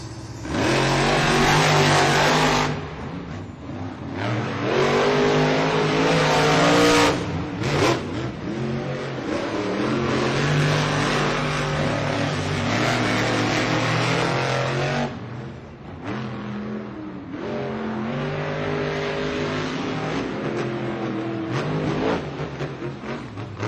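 Monster trucks roaring through a Monster Jam stadium semifinal race in San Diego, loud heavy engines revving and surging continuously with brief dips, a dense crowd-filled wash behind them.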